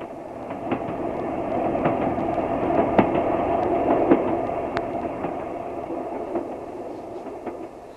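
A train sound effect from a Turkish radio drama: a moving train rumbles steadily with rhythmic clickety-clack wheel knocks over rail joints, swelling slightly mid-way and then easing, with no voices.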